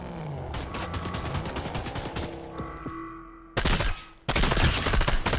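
Rapid bursts of gunfire from a gun in the video game Fortnite, loud and dense, with sustained fusillade-like volleys that grow heavier near the end, over game sounds.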